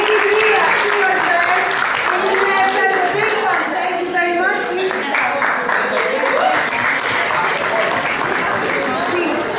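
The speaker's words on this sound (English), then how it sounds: "Big applause to those students who made it here" A seated audience at a certification ceremony in Athens breaks into loud, sustained applause for the graduating students, with a voice speaking over the steady clapping.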